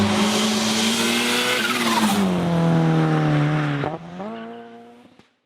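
A Lamborghini drives past loud and close, its engine note falling with harmonic sweeps and tire noise, then fading as it moves away and drops to silence at the end.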